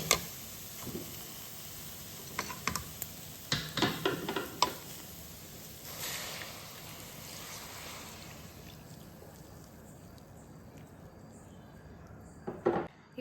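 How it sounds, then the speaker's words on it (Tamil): Grated carrots are stirred in a pan while cooking for carrot halwa. A spatula makes scattered clicks and scrapes against the pan over a soft, steady sizzle, with a short burst of stirring near the end. "இப்போ கேரட்டை நல்லா மிக்ஸ் பண்ணிகிட்டே இருங்க, அது நல்லா வேகணும்"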